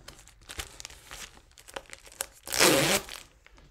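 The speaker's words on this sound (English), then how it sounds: "So let's just get this open really quick. You can just tear it." A package holding AirPods Pro silicone ear tips is crinkled and then torn open by hand, with soft rustling that builds to one loud, close tearing rip.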